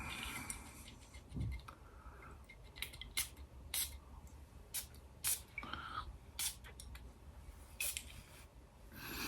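Several short, crisp spritzes from a Parfums de Marly Haltane perfume bottle, spaced irregularly, with faint clicks and handling noise between them in a quiet room.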